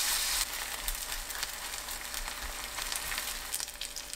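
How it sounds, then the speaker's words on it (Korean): Perilla leaf seafood pancake batter frying over medium-low heat in a preheated, oiled pan, giving a soft, continuous crackling sizzle with faint pops, no voices. "식용유 두른 팬이 예열되면 중약불로 낮추고 반죽 올려 부칩니다."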